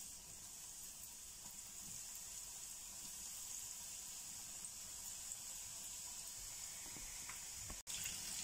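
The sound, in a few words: fish fingers frying in hot cooking oil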